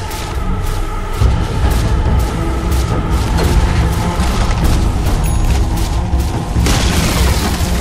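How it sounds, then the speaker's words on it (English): In Dota 2, the Radiant middle tower collapses amid dense battle noise, with a continuous roar of booms, crashes and clashing effects, loud and busy from start to finish. "Radiant's middle tower has fallen"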